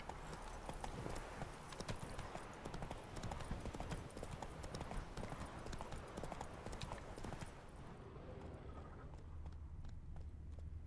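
Hooves of a horse clip-clopping at a steady trot in the video game The Witcher 3: Wild Hunt, dense rhythmic thuds close by that keep going for about eight seconds, then drop away to quiet ambience.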